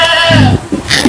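A goat in a livestock pen gives a loud, close bleat lasting about half a second, followed by a few shorter, fainter bleating sounds.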